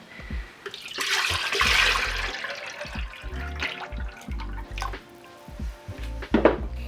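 Glaze being poured from a jug over a ceramic bowl, a close, wet splashing pour that swells and fades in uneven bursts with some dripping and no talk.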